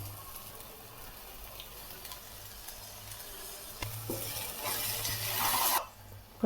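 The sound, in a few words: tomato puree being stirred and fried with ginger garlic paste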